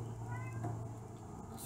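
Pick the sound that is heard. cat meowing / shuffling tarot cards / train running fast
cat meowing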